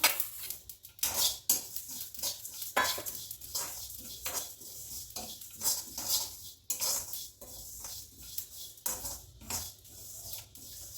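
Fenugreek and sesame seeds being dry-roasted in a pan for a coriander-tamarind roti chutney, heard as repeated close scraping and clinking of a spoon against the pan in an uneven rhythm, with no talk.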